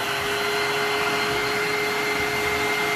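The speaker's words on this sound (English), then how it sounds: "I am going to dry that with the blow dryer" A hair dryer blows with a constant, loud whirring hiss and a steady motor whine, close by and unbroken.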